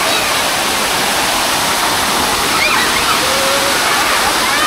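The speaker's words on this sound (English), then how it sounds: "This is like artificial waterfall. It's so powerful, very powerful." Powerful artificial waterfall at a water park pool, a loud, steady roar of crashing water throughout, with faint voices mixed into the rush.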